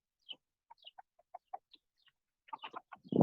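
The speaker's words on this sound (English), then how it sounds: "Look, the chickens are there just waiting." Chickens cluck in scattered short calls, sparse at first and then quicker and busier, with a louder rustle or bump at the very end, close by and otherwise quiet.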